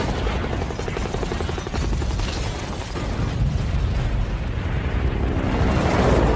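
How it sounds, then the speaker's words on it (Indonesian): A loud, sustained explosion from the bomb destroying the Skynet base in a Terminator film, a dense roaring blast rumbling on for several seconds with no talking. "John pun menekan alat pemicu bom tersebut yang telah ia pasang sebelumnya untuk menghancurkan markas Skynet itu."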